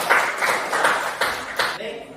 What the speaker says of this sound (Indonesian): Kita kasih tepuk dulu untuk Chelsea